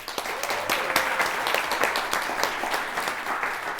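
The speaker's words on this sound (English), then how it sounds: "make sure we give a large round of applause" A crowd applauds event organizers at a vegan debate panel, a dense, steady wash of many hands clapping that carries through without pause.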